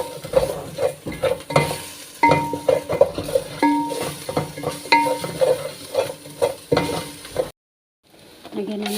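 A utensil stirs fish and seasoning in a sizzling pan, with repeated scraping and clinking strokes in an irregular rhythm, close and fairly loud, before a brief silence and a softer resumption.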